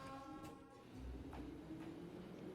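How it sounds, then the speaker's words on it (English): A train in a VRChat game world arriving, with a faint, steady rolling rumble, a low hum and light rail clatter, heard distant and quiet with no voices. "as you could tell, we just got off the train"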